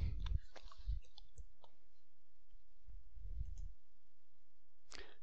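Mouse clicks while playing a video game: a few scattered sharp clicks, fairly close and quiet, with soft low thumps in between and no talking.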